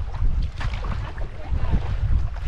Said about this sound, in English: As you can tell, the wind on this lake could have been a cause for concern.